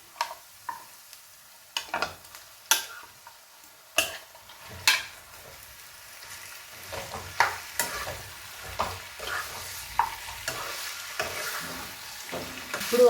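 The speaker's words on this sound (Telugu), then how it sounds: "ఇప్పుడు ముందుగా మనం మ్యారినేట్ చేసుకున్న చికెన్ దీంట్లో యాడ్ చేసుకుందాం" Marinated masala chicken frying and being stirred in a pan, with scattered scrapes and clacks of a spoon over a soft, low sizzle that grows busier and louder toward the end.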